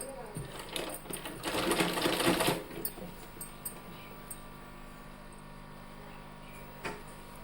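A sewing machine runs one short burst stitching a folded edge of a child's woollen cap, then stops, leaving faint handling clicks and room hum.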